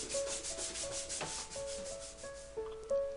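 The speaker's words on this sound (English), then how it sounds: "Followed by light sanding" Soft, rhythmic rubbing strokes of sandpaper lightly sanding an acrylic painting repeat steadily, close and quiet, with faint tonal hum in the background.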